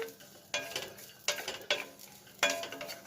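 Peanuts and coconut being dry-roasted in a pan, a quiet scrape and rattle of stirring in a few distinct strokes with soft sizzling between them.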